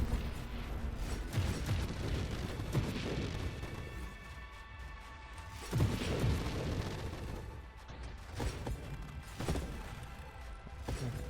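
Ship shots exploding in the space shooter Nova Drift, a run of muffled booms and thumps bursting at irregular intervals over a continuous rumbling game background.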